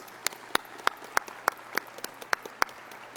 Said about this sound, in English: Everyone deserves a really big round of applause.